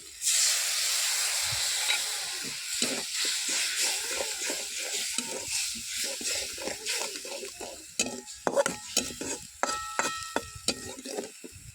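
Fish curry boiling in a pot, a steady steamy hiss with bubbling and scattered clicks and knocks of stirring throughout, close and moderately loud with no talk.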